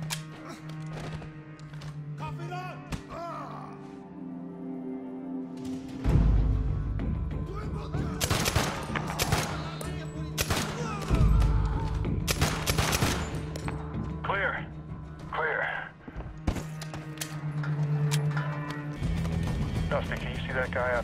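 Suppressed rifle shots fired at long range in combat against the Taliban, several muffled cracks and booms spread through a busy battlefield mix, with radio chatter and voices talking over and between them.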